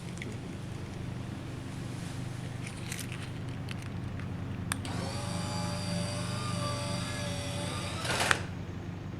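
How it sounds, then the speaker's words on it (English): A small DC electric motor on a motorized front license plate bracket, fed from a DC power supply, whines steadily for about three seconds under a low background hum, then cuts off with a click. "hook up a DC power supply I have to the motor, and I'm going to test it just by hitting the remote"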